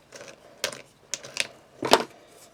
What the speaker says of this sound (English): now I'm just using the blade of a penknife just to cut the edges off